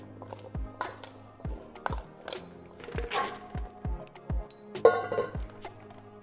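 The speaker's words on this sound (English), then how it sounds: "We're gonna mix this to coat our butternut squash." Spoon clinking against a bowl while cubed butternut squash is tossed with olive oil, salt and pepper, a series of sharp, close, irregular taps over a quiet kitchen background.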